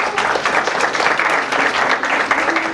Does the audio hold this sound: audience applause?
yes